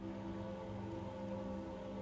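Steady rain falls in the Bear and Breakfast video game, a dense continuous hiss and patter with a low rumbling bed, no voices.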